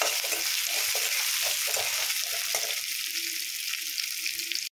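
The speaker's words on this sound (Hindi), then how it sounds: "अब इसे तेज आंच में भूनेंगे।" Finely chopped onion fries on high heat in a pan, giving a continuous dense sizzle with soft stirring scrapes, steady and close throughout.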